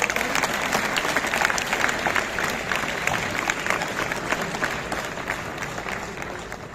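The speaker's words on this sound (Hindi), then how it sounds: "एक बार आप लोग अपने लिए तालियां बजाइए।" A large audience applauds steadily at a kavi sammelan poetry event at IIT Kanpur, a dense, sustained clapping that slowly tapers toward the end.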